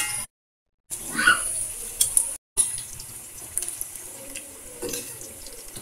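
Kamote cue sweet potatoes fry in oil with a soft, patchy sizzle and light stirring clatter, heard close between two brief gaps of silence.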